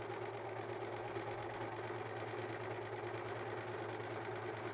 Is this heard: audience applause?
no